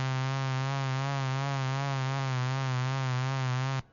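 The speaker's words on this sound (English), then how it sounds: "route a low frequency oscillator to the pitch of the sound, to the frequency of our whole note" A softsynth tone with a low frequency oscillator routed to its pitch, a steady buzzy sustained note wavering in a slow even vibrato for several seconds before cutting off abruptly, loud and alone.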